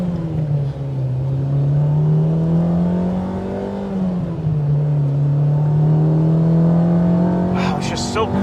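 A JDM ITR B18C-swapped 2000 Honda Civic Si accelerating on the road at around 70 mph, with a loud, steady engine drone whose pitch rises, dips and climbs again over continuous road and wind noise.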